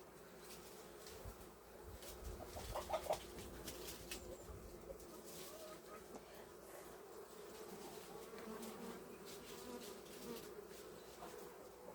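Steady buzzing of honey bees around a hive fills the scene, many bees humming close by, with a few faint knocks and a brief louder burst early on.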